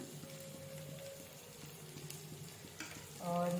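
Cooked mixed dal with spinach, softened in a pressure cooker, is stirred in the pot, giving soft scraping and slushy strokes over a faint sizzle, with a brief louder clatter near the end.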